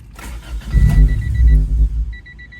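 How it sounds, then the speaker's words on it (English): A Honda Civic engine cranks and catches with a strong burst, then stumbles and fails to stay running, close and loud, followed by rhythmic dashboard warning chimes. "It sounds like it wants to start strong, but it won't stay started."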